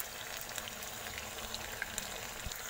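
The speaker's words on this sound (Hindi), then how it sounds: "देखिए फ्रेंड्स, अभी फ्राई हो रहा है।" Sabudana vada frying in hot oil, a faint, even bubbling sizzle with scattered tiny pops and crackles, steady throughout and unaccompanied by any voice.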